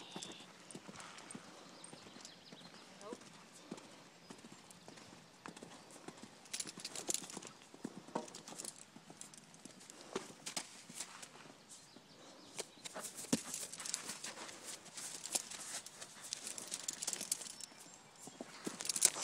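A horse cantering around an arena produces continuous rhythmic hoof clip-clops, moderately near and fairly faint, with some outdoor background noise and occasional louder footfalls.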